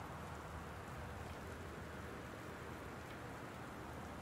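Steady rain falls in the video game Gone Home, a soft, constant hiss with no break or change in level, heard alone without voices.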